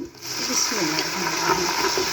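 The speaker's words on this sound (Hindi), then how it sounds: "इसमें लगाते हैं थोड़ा सा पानी" Water poured into a pan of golden fried onions gives a steady hiss and sizzle with faint splashing that holds evenly throughout.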